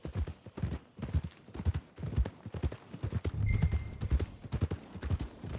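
Steady clip-clop of horse hooves walking at an even pace in a video game, close by, with a low rumbling background and a brief faint whinny partway through.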